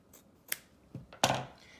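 Scissors cut through a t-shirt to separate half the fabric, giving a few close, crisp snips and a longer rasping cut near the end, with no talking.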